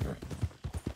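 Hooves of a Mustang horse in the RedM game, a quick rhythmic clip-clop of about five soft, close beats in one second, fairly quiet.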